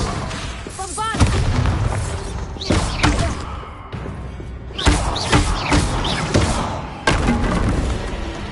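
Bombarda explosion spell in the Hogwarts Legacy video game: a series of loud booming blasts and thuds with crackling debris and creaks, spaced every second or two, with a voice calling out spells between them.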